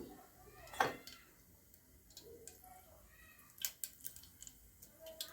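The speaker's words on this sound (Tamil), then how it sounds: "ஒரு அரை டேபிள் ஸ்பூனு கடுகு போட்டுக்கிடுவோம் கடுகு பொரியட்டும்" Half a tablespoon of mustard seeds crackle in hot oil in a heated pan while cooking arisi paruppu rice. Scattered sharp pops sound close but faint, with one louder crack early, a quiet stretch, then a quicker cluster of ticks near the end.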